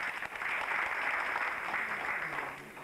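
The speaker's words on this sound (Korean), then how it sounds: "저 뒤에 계신 박수 한번 해주시죠." An audience at a memorial academic conference gives a patriot sustained applause, a dense, even wash of clapping from a seated crowd that tapers off at the end.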